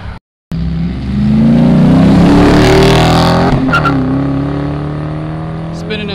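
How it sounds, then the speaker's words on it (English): Car accelerating hard and spinning its tires at a cars and coffee meet in Fairfield, Ohio, a loud rising engine roar close by with people talking over it. "Spinning them tires a little bit,"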